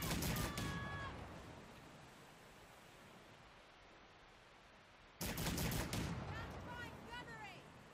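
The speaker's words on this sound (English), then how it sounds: "They're firing, Captain!" Ship cannons fire in the naval video game Man O'War: Corsair, with booming broadband blasts at the start and again midway, trailing into a low rumbling wash, with faint voices heard amid the din.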